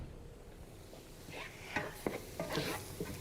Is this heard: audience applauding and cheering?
no